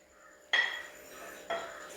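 Metal spoon scraping and clinking in a pan while onions and tomato are sautéed for Kerala-style mutton curry, two sharp stirring strokes about a second apart over a quiet kitchen background.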